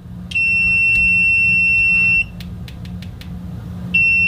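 The continuity beeper of a GVDA GD166B clamp meter sounds as a loud, shrill steady tone for about two seconds, then stops during a stretch of light clicking before starting again, heard close up.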